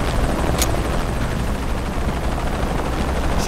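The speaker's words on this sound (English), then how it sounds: "Always hated helicopters." Helicopter in the video game Shadow of the Tomb Raider, a steady loud rotor roar filling the whole clip with one brief sharp crack near the start.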